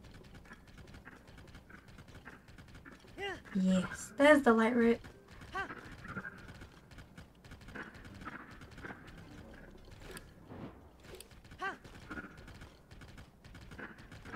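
Horse hoofbeats clop along in the video game Zelda: Tears of the Kingdom, rhythmic and fairly quiet amid mechanical game effects, while a player talks over them.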